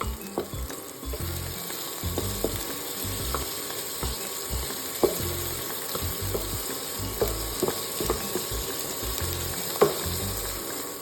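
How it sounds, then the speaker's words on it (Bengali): Chopped onions sizzle in hot oil in a kadai, a steady frying hiss broken by repeated sharp scrapes and clinks of stirring throughout. "এখানে কড়াই তেল গরম করেছি আবার দেন পেঁয়াজ কুচিগুলো দিয়ে দিয়েছি এটা ভাজা হয়ে গেলে"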